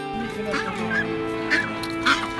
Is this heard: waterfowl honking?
yes